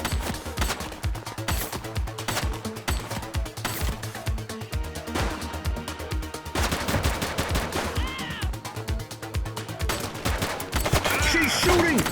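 Rapid gunfire in the police game The Precinct as a suspect shoots, a steady stream of sharp shots continuing throughout, with shouting voices mixed into the busy action.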